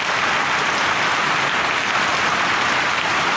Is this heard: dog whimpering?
no